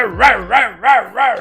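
Hellhounds in a Baldur's Gate: Descent Into Avernus tabletop session, voiced as a dog-bark sound effect: four loud, evenly spaced barks in quick succession with a slightly howling tone, close and clear with no talk.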